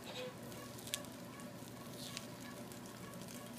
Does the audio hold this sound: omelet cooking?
yes